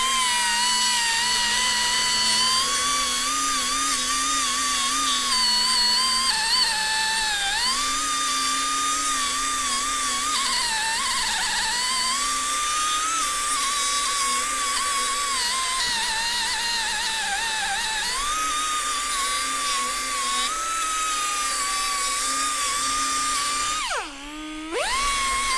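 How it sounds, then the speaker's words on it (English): A high-pitched Roloc disc on a power tool whines continuously while cleaning a vehicle brake hub, holding a loud, steady tone with small pitch dips as pressure changes, then briefly cutting out near the end. "So then you take the roll lock disc and clean out."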